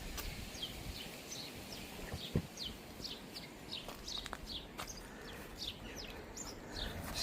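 Several house sparrows chirp in a hedge, faint and fairly distant, repeating short high calls over steady outdoor background noise, with one brief low thump partway through.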